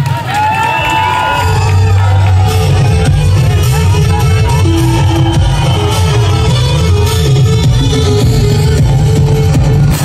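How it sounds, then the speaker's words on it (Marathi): A large outdoor crowd at a Dahi Handi festival roars with cheers, whoops and shouts, loud and sustained from start to finish, with a voice over a loudspeaker. "जोरदार टाळ्या घ्या."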